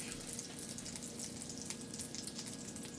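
Butter melts in a pan over medium-high heat, giving a soft, steady crackling sizzle with faint pops, quiet and continuous with no talking.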